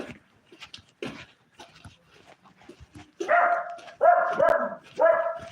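A dog barks three or four times, loud and close, in quick bursts with short gaps, after a stretch of quieter scattered sounds.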